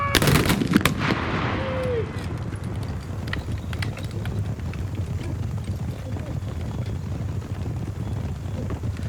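Rifle volley from Minié-era muskets at a British militaria shoot outdoors, a sharp, loud crack at the start of the clip, followed by a long stretch of steady ambient outdoor noise.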